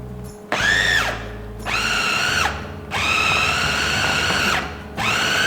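A meat grinder churns a beef meatball mixture, its motor whining loudly in several long bursts separated by short pauses, close by.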